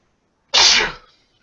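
A single sharp sneeze bursts out loud and close, lasting about half a second before trailing off into quiet.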